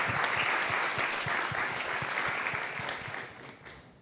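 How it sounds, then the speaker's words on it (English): A live show audience at the Rex gives a round of applause, steady broadband clapping that holds evenly and tapers slightly toward the end. "let's give incredible."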